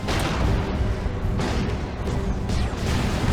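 Heavy turret fire in Dawn of War 2 Retribution, a dense continuous barrage of booming, crashing impacts with battle noise layered throughout, loud and steady with no pauses across the few seconds.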